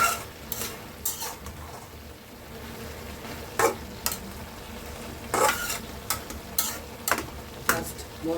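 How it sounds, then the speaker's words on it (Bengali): Pumpkin greens with spices get stirred and tossed in a pan, a soft steady sizzle under repeated scraping and clinking strokes of a spatula against the metal, no voices. "উল্টায় পাল্টায় মাখায় দেবো শাকটাকে, মশলাগুলো"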